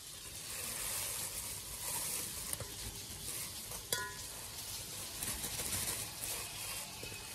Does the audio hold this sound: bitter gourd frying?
yes